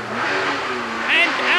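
British Touring Car race car at a 1990 BTCC round, accelerating hard through the gears toward Maggots at around 130 mph, a loud onboard engine roar climbing in pitch under continuous commentary.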